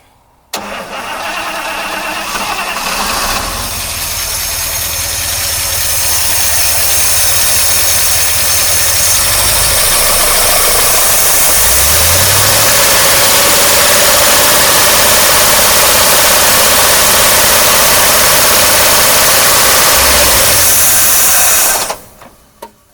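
A 1953 Oldsmobile Rocket Super 88 barn-find engine with a suspected carburetor problem cranks and catches, then runs loudly at a rough, uneven idle for about twenty seconds before abruptly dying.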